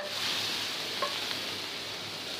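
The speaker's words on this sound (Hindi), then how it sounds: "तो ये मैं हरी प्याज का तड़का लगाऊंगी।" Steady, close sizzling of green onion tempering frying in hot oil, with a faint scrape of stirring partway through.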